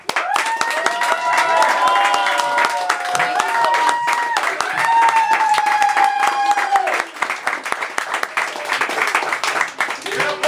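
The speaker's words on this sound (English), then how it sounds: "Clap it up one more time for Rue" An audience claps and cheers for a spoken word poet at a live event, dense applause mixed with whoops and a prominent voice speaking over the top throughout, fading slightly toward the end.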